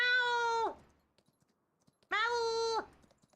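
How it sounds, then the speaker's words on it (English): A cat on a farm gives two clear, drawn-out meows, separated by a quiet pause with faint clicks between them. "You hear this cat?"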